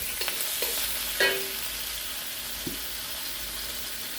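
Sweet potato glass noodles for Korean japchae sizzle in a hot pan while a utensil scrapes and clinks against it a few times, a steady frying hiss underneath.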